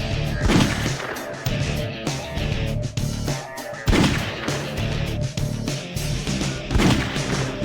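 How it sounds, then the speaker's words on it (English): Several sharp gunshot bursts ring out every few seconds over a dense layer of energetic music in a Shadow the Hedgehog video game main menu. "they have gunshots firing off when you're navigating in the main menus"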